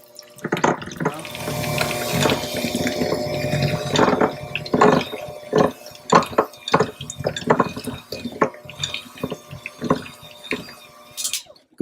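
Milk being poured into chocolate cake batter in a mixing bowl, a liquid trickle with dripping splashes and small clinks, fairly close and steady throughout with no talking.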